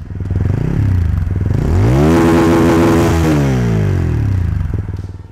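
A TVS Apache RTR 200 4V BS6 naked sports motorcycle revs up near the exhaust, the engine note climbing and falling through several loud throttle blips over a steady idle, with no talking.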